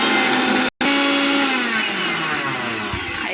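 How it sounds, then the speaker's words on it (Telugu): A kitchen mixer grinder whirs loudly and steadily as it grinds coriander, mint, green chillies, ginger and salt into a paste for panipuri, with one brief cut near the start. "ఒక మిక్సీ జార్లో కొత్తిమీర, పుదీనా, పచ్చిమిరపకాయలు, అల్లం ముక్క, సాల్ట్ అన్నీ వేసుకోవాలి. వేసుకొని గ్రైండ్ చేసుకోవాలి."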